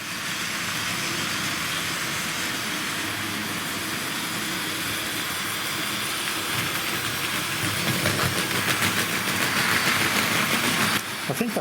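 Tri-ang R.754 M7 model tank locomotive running on a Super 4 toy railway layout, a continuous whirring motor hum with rail rumble that grows slightly louder toward the end before cutting off.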